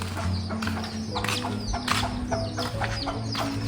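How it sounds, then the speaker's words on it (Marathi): A village hen with five chicks clucking close by in a series of short, repeated calls, mixed with light tapping and rustling in the background. "पिल्लं 5 पिल्लं कोंबडीचे."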